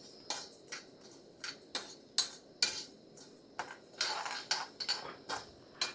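A utensil scrapes and clinks against a pan, stirring roasting pickle spice powder in about a dozen short, irregular strokes, close by and moderately quiet, with no talk.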